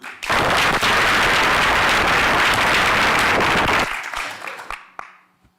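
Loud audience applause in a room, used to vote on a scenario, a dense wash of clapping that holds steady for about three and a half seconds before tapering off into scattered claps and quiet.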